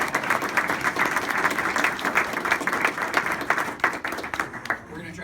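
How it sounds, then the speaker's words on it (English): An audience at a candidate forum gives the candidates a round of applause, loud, dense clapping that holds steady and then thins slightly toward the end. "So can we give them all a round of applause?"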